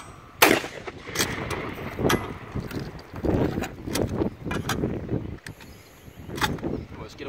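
Winchester 1887 lever-action shotgun fired outdoors at clay targets, sharp loud blasts and booming reports amid wind noise, with a voice briefly heard.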